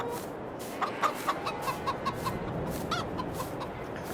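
Chickens on a farm in Farming Simulator 22 cluck in a quick series of short, evenly spaced calls, followed by a couple more clucks, all over a steady background hum.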